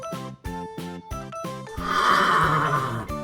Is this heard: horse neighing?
yes